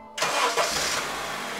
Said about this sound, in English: As I crank the engine